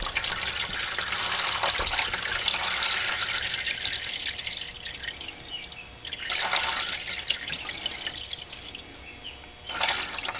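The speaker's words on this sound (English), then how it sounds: "popping this gasket off a little bit. Gonna give it a little bit more room to drain." Automatic transmission fluid from a Mercedes 722.6 gearbox on a W202 draining into the pan, a steady close trickling and splashing with a few louder gushes.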